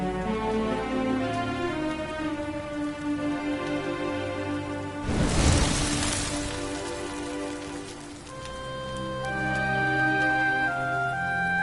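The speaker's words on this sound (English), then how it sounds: "Looks like the rain's dying down." Rain patters steadily in the Dragon Quest 11 video game beneath sustained music, swelling into a loud burst of downpour for about a second before fading back under the melody.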